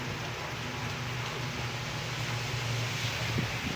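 Afternoon rain falls steadily in a city, a broad, even hiss of drops with a low rumble beneath, continuous and without voices.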